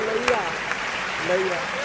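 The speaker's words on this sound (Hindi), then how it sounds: "ताली जोरदार बजाइए एक बार आप लोग" An audience at a live Hindi comedy show claps steadily for about two seconds, with voices mixed in over the applause.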